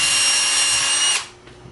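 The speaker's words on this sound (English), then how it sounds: "you drill a hole directly in the center" Power drill boring a hole through the center of a PVC conduit fitting cap, a loud steady whine with a bright metallic hum that stops abruptly near the end, leaving a quiet room.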